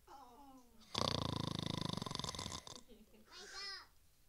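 A storyteller at a student storytelling festival voices a long, loud, buzzing snore lasting over a second and a half, followed by a shorter breathy snort; a vocal imitation delivered alone.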